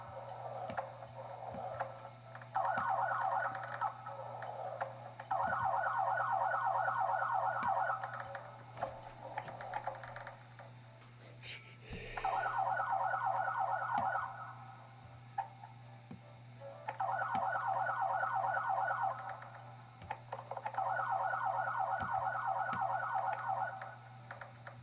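Police car siren sound effect in the Roblox video game, a repeating wail that rises and falls in five loud bursts with short pauses between, over a steady low hum, with no talking.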